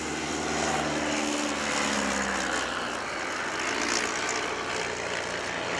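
De Havilland DH 82 Tiger Moth biplanes diving in a display at Shoreham, a loud droning propeller engine roar that shifts in pitch as they pick up speed, sustained throughout.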